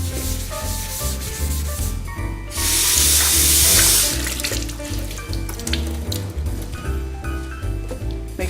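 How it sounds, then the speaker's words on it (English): A sink is scrubbed clean with a sponge in a rhythmic rubbing pattern under running tap water, with a louder gush of water partway through, close and steady, with music playing underneath. "Get that sink nice and clean."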